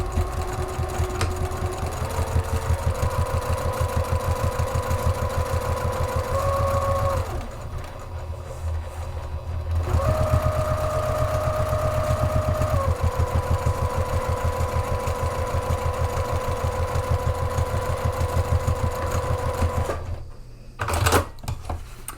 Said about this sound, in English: I'm going to stitch across the top edge of the pocket